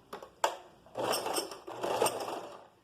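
Sewing machine stitching a garment facing in place, two short mechanical bursts followed by longer whirring runs of stitching, close and moderately loud.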